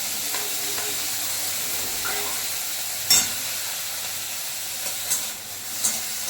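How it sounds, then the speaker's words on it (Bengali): Tomatoes and crushed ginger fry in a hot pan with a steady, moderately quiet hiss and sizzle, broken by a few soft clicks and stirring scrapes. "এবার এটা খুব ভালো করে ফ্রাই করে নিতে হবে।"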